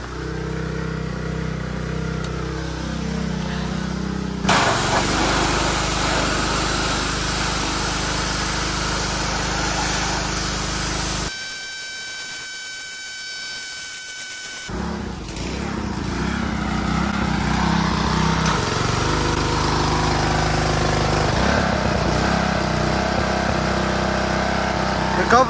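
A homemade 3.75hp petrol water blaster engine runs steadily and loud at close range, its governor surging a little, with a brief drop to near quiet midway before the engine note returns.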